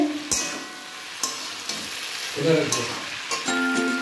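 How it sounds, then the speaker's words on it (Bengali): Potatoes and eggplant fry in a pan, with a soft sizzle under a few loud spatula scrapes and knocks spaced across the clip, and no one speaking. "দেখো আমার আলু একটু বেগুনটা ভাজা ভাজা হয়ে গেছে।"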